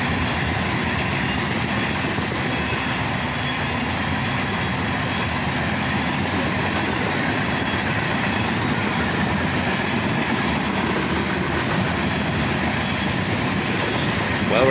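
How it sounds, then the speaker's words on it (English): A long CSX freight of covered hopper cars thunders by close at speed, steady rolling wheel noise and rattling wagons with faint squeals, unbroken for the whole stretch. "This train was all CSX covered hoppers"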